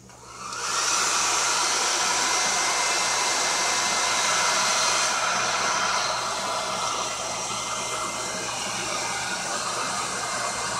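A dryer blows steadily and loudly for about ten seconds over wet medium on an altered book page, with a constant rushing hiss and no talking.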